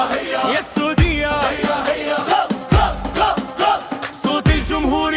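Football fans cheering for Saudi Arabia roar and chant in rhythmic, loud waves, with sharp low thumps punctuating the crowd roughly every second or so.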